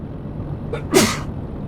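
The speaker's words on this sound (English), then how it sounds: "I'm gonna sneeze." A single sharp sneeze bursts out close to the microphone, preceded by a brief intake of breath, loud against quiet background hum.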